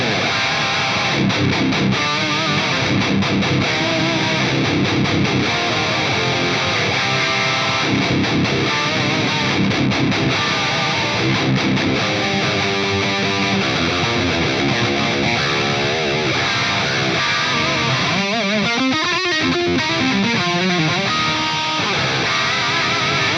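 High-gain electric guitar played through a Fryette Deliverance amp with multi-band compression, a dense, saturated distorted tone with chugging riffs and sustained chords, loud and continuous without speech.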